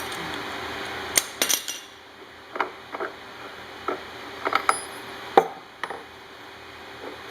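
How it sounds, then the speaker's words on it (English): Metal tool work on a VF-100 steam turbine stud tensioner as the puller screw comes off: sharp clinks, taps and knocks at irregular intervals, close and crisp over a quiet background. "Remove the puller screw."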